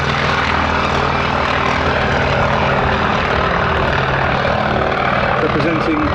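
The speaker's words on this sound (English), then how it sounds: "Underneath, taking off the Grumman FM2 Wildcat." Grumman FM2 Wildcat fighter taking off at a Duxford air show, a loud continuous propeller-engine roar with a dense low drone, with a voice talking over it.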